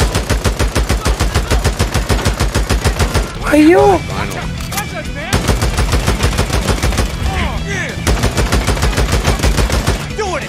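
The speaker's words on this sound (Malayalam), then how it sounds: "വെടിവെപ്പ് എന്താണെന്ന് കേൾക്കണേ." Rapid bursts of automatic gunfire in the video game Days Gone, loud and dense with a brief boom, pausing around the middle before resuming, while a man exclaims over it.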